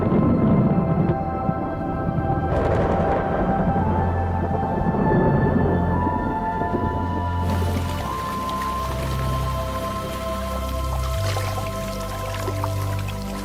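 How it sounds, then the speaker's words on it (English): Heavy rain pours down as a drought breaks over a wild African valley, a dense steady hiss of falling water with low rumbling underneath that deepens into a rolling, thunder-like drone halfway through. "The rains are welcomed by most animals"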